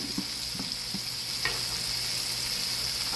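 Self-rising flour meets a little hot oil in a pan, giving a steady close hiss of frying with a few soft stirring scrapes early on.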